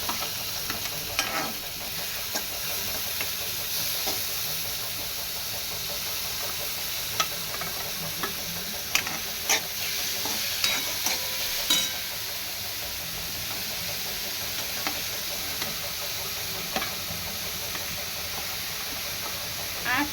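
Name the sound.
vegetables sautéing in oil with cumin and asafoetida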